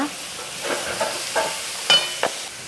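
Chopped onions frying in hot oil: soft sizzling and crackling, with a few sharper pops and stirring scrapes near the end; no talking.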